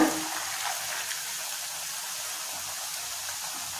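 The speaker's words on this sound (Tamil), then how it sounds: "அடுப்பு வந்து மீடியம் ஃப்ளேமில் வச்சுட்டு பொரிச்சு எடுக்கணும்" Paneer noodle wrap deep-frying in hot oil over a medium flame, a steady, even sizzle and crackle that holds at one level from start to finish, close by and moderately loud with no voices.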